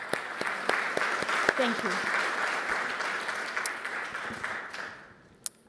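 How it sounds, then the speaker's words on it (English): Audience at a conference event breaks into sustained applause, a dense wash of clapping that holds steady then fades out, with a brief spoken thanks near the end. "I hope you will indulge me in thanking Almaz and her team with a very strong round of applause"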